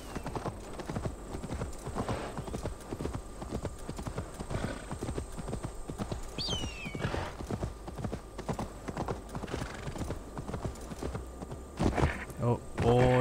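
Horse hooves clip-clop steadily at a walking pace in the video game Assassin's Creed Valhalla, with a brief distant neigh midway and a few heavier thuds near the end.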